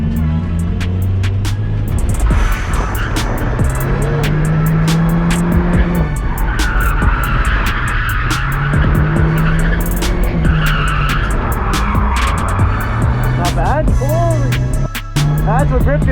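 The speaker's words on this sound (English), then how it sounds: "I'm just trying to get good at drifting" A car drifts with repeated loud tire squeals and skids over a revving engine that rises and falls in several waves, close and continuous throughout.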